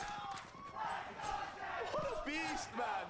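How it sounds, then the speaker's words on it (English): Crowd roar at a Valorant esports match between SEN and NRG, a loud sustained swell of cheering and shouting from a big audience, with excited voices rising over it. "And the crowd comes to life"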